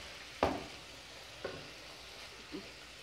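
Chicken pieces cooking in a pan for chicken stroganoff, a soft steady sizzle broken by three scraping stirs spaced about a second apart, close but quiet.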